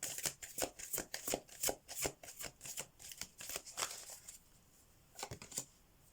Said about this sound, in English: Oh, I can't shuffle this one.